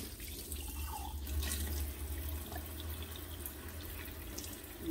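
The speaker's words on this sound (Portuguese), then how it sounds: "lavo com detergente, enxago bem esses vidros, mas bem, fica muito limpo" Tap water runs steadily into a sink while glass jars are rinsed clean after washing with detergent, a soft continuous splashing close by with faint clinks of glass and no speech.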